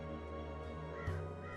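A crow caws once, briefly, in the video game Dreamfall Chapters, the call rising over a steady bed of background music.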